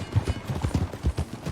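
Horse hooves clip-clopping at a steady riding pace in the video game Red Dead Redemption 2, a quick run of close, muffled thuds in an even rhythm.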